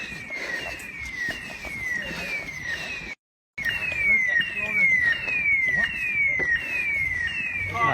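An alarm goes off inside an abandoned high school, sounding a repeating falling electronic tone over and over, loud and continuous apart from a brief drop, with rustling and movement around it.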